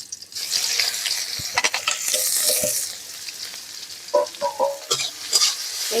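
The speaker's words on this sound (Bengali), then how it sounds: "পেঁয়াজগুলো একটু ভেজে নেবো লাল লাল করে।" Chopped onions frying and sizzling in hot oil in a village kitchen, with steady crackling broken by several spoon scrapes and stirring knocks against the pan.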